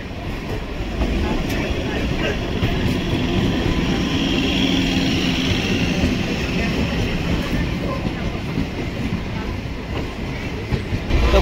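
The Darjeeling Mail passenger train running at speed on a cold morning, a loud, continuous rumble and rattle of wheels and carriages heard from inside, droning steadily with no clear voices.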